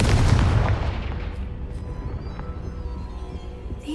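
A Confringo blasting-spell explosion in Hogwarts Legacy, a single loud booming blast at the start that rolls off into a fading rumble over a few seconds.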